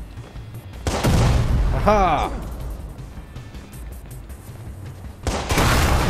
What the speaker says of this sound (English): Douchebag shooting me!